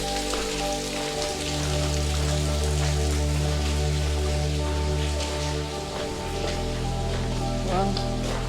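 Water drips and splashes from a natural seep inside an old railroad tunnel on the TAG Railroad Tunnel and Estelle Trail, a continuous patter of drops over a deep steady rumble that echoes through the tunnel space.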